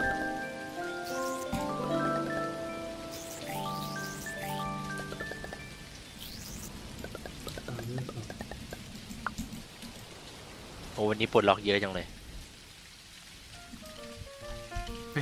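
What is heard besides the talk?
rain falling in the video game Dinkum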